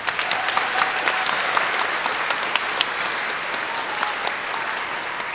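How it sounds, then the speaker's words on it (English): Audience applause at an elementary school grand opening fills the room as a steady, even wash of many hands clapping, moderately loud and unbroken for several seconds. "So let's give them a nice round of applause."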